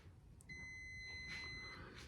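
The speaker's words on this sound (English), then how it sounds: "and you'll hear the beep" A single high electronic beep while testing a lawn mower ignition switch, clear and steady for about a second, sounding once against a quiet background.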